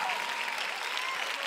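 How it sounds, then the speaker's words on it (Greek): Audience applause for the orchestra at a live pop concert at Katrakeio theatre, a steady dense wash of clapping from a large crowd, loud and continuous throughout. "Τεράστιο χειροκρότημα στην ορχηστράρα μας."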